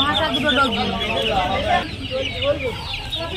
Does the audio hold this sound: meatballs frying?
no